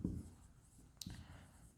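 A pen scratches across paper in a short, faint burst of writing strokes, close by and quiet, with a small tap partway through.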